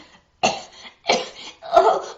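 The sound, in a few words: imitated coughing and choking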